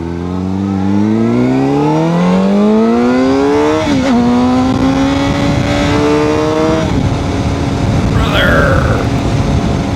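A Honda CBR600RR sport bike accelerates hard through the gears on a ride from Wingdale, New York to Kent, Connecticut, its engine note climbing loudly with two clear shifts while wind rushes steadily underneath.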